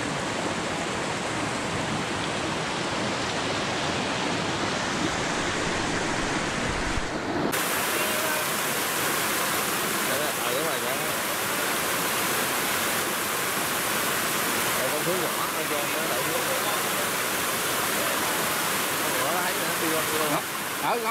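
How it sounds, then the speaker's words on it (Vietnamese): A mountain stream near Lai Chau city rushes steadily with dense, constant broadband water noise, loud and close throughout, its character shifting slightly partway through. "Cái con suối này nó rất là đẹp luôn."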